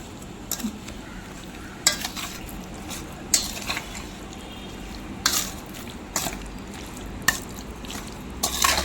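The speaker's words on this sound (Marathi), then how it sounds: "हे आपण तेल असं ओतलंय मस्त असं परतून घ्यायचं" Raw mango pieces being stirred in oil for mango pickle, heard as a soft background sizzle broken by repeated sharp scrapes and clinks of a spoon against the pot, nearby and fairly quiet.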